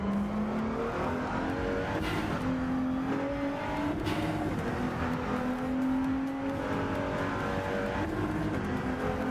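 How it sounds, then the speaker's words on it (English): Racing-car engine in the Rennsport racing video game with 90s DTM touring cars, a steady loud drone with rising and falling pitch as the car accelerates and shifts, and faint higher whooshes that could be turbo noise. "I like the turbo sound that randomly happens."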